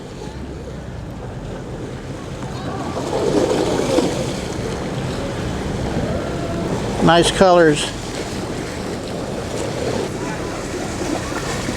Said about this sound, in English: Got the waves kicking up tonight.